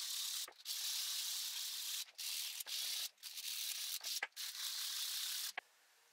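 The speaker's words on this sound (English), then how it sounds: "finished off with 3 or 4 steps of finer and finer sandpaper" Sandpaper rubs steadily across the surface of an optical lens, a continuous hiss of abrasive strokes broken by a few short pauses, close and fairly quiet.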